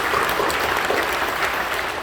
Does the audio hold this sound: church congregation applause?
yes